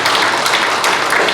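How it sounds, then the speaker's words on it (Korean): Members at an alumni association board meeting applaud in agreement, a short, steady burst of clapping in an indoor meeting room with a few sharper claps standing out. "제 의견에 대해서 동의하시면 박수를 좀 해주시면"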